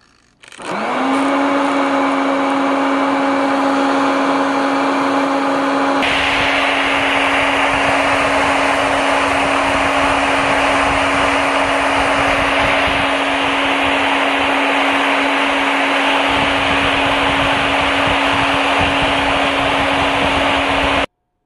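A small electric roasting machine tumbling cocklebur seeds like coffee beans, a loud steady motor whir with a constant hum and airy rush that continues unbroken to the end.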